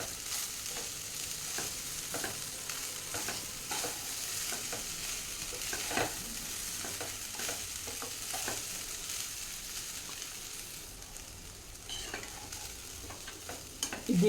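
Masala fries softly in a pan over a low flame, a quiet steady sizzle broken by repeated stirring scrapes and taps, close by with no voices.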